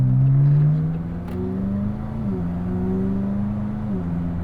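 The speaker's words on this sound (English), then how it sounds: "it has this very drone-ish sound of the exhaust note" A McLaren 570S engine and exhaust hold a deep, droning note that drops in pitch as the throttle closes into engine braking, then settles into a steady, smooth hum, loud and close.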